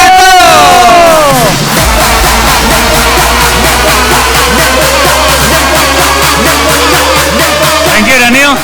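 A large indoor audience cheers, whoops and claps loudly all at once, a dense roar of voices and hands that keeps going as a speaker's voice rises over it at the start.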